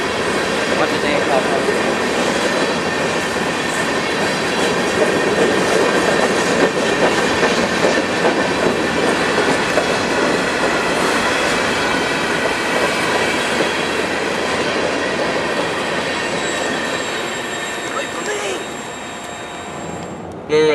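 A BNSF freight train rolls past in Denver or Commerce City, a loud steady rumble of railcars with clickety-clack under continuous wheel and rail noise throughout, fading slightly near the end; a voice speaks faintly.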